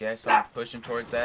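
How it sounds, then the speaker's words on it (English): A dog barks and yips in short bursts while someone talks over it, the barking close and mixed with his voice. "Excuse the dog barking"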